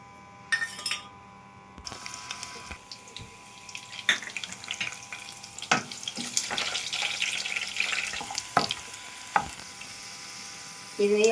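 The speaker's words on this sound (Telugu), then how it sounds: "ఇది ఆయిల్లో వేసి బాగా వేయించాలండి." Spice paste frying in oil with garlic, tempering seeds and dried red chillies for a fresh turmeric and ginger stew, a close sizzle broken by stirring scrapes and clinks, with a brief tap-like trickle near the start.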